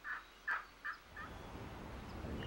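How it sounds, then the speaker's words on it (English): Hen turkey calls used to lure male wild turkeys within range on a turkey hunt: four short, sharp yelps in quick succession, then a low wash of outdoor background noise. "making hen calls to lure the male turkeys within shooting distance"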